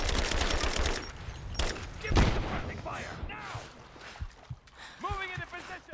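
Rapid automatic gunfire in Rise of the Tomb Raider, a fast burst of loud close shots followed by scattered booms and impacts, with someone talking over the action.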